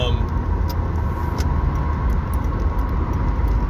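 Steady road traffic rumbles and hisses continuously, loud and close, as a speaker stands beside passing cars.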